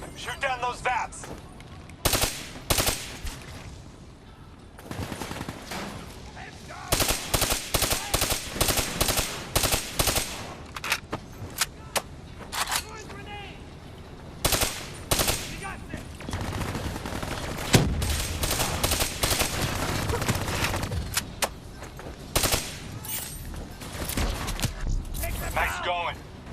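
Automatic gunfire rattles in repeated bursts while shooting down VAP aircraft in Call of Duty: Black Ops 3, the loud volleys separated by short pauses and mixed with game effects and occasional voices.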